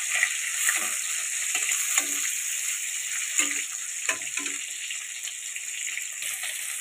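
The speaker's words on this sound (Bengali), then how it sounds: "এবার মাছগুলো একে একে দিয়ে আমি ভেজে নেব তেলের মধ্যে।" Katla fish pieces fry in hot mustard oil with a steady, bright sizzle, broken by occasional soft scrapes and clinks as they are moved in the pan.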